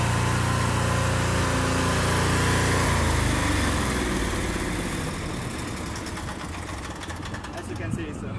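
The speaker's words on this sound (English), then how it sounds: "I show you our machine, our heavy-duty pressure cleaning machine" A heavy-duty pressure cleaning machine used for bluestone cleaning roars loud and steady from close by, its engine drone easing slightly partway through, while someone talks over it.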